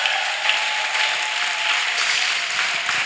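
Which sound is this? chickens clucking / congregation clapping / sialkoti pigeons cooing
congregation clapping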